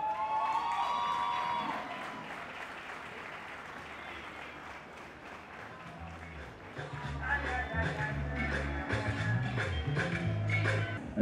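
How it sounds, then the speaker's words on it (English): Sustained audience applause at an award ceremony for the winner, continuous clapping that swells toward the end while music plays underneath. "A round of applause for Adetola Anoyemi once again"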